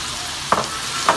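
Onion and vegetables for Chinese-style fried rice sizzle steadily in a hot pan, and two quick stirring scrapes cut through the continuous close frying hiss.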